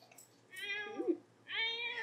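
A cat in a video game gives two clear, close meows, the first rising and falling, the second brighter and sustained, separated by a brief pause over a faint low hum.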